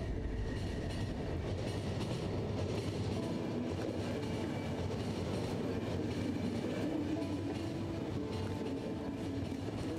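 A train rolls along its rails in The Final Station, a continuous dense rumble with faint rhythmic clatter and hiss, steady throughout with no talk.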